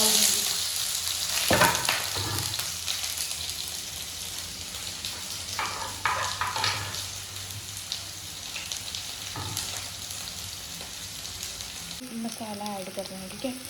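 Long-sliced onions fry in oil for Maggi noodles with a steady close sizzle and occasional stirring clatter, continuing throughout, a voice briefly audible at the end.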